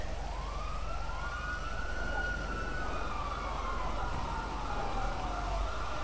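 A fire truck siren in a police roleplay video game wails continuously with rising and falling sweeps, loud and steady over a constant low engine rumble throughout.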